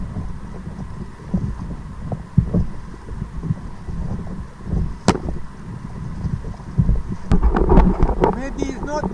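Strong gusty wind buffets the microphone during kayaking on open water, a continuous low rumble throughout, with a loud voice talking briefly near the end.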